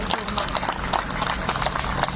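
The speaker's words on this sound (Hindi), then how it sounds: "एक बार दोनों हाथ खड़े करके अपने लिए तालियां बजाएं" An audience at a Hindi-language religious gathering with Swami Virendra Anand claps steadily, a dense continuous patter of many hands under a loud hall ambience with no clear break.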